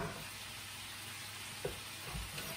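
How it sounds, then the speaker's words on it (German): Bacon frying in melted butter gives off a steady, faint sizzle in the background, broken by a few soft knocks and stirring sounds from the pan, with no one talking. "Wenn Sie es hinten dran vielleicht schon brutzeln hören, wir brauchen etwas Speck, der in Butter ausgelassen ist."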